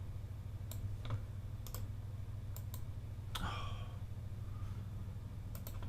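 Sharp, isolated computer mouse clicks, some in quick doubles, spaced irregularly over a low steady room hum with no talking.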